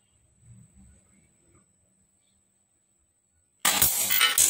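Quiet low murmuring and faint rustling, then a sudden loud sharp crack as an upgraded toy Glock 17 BB pistol shot hits a hard Oronamin bottle, with a crash that rings on with bright clatter until the end.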